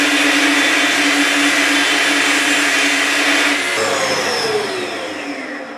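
Power saw ripping a length of wooden stock down the middle, a loud, steady, close whining cut that holds evenly for several seconds, then changes pitch and winds down as the blade spins free.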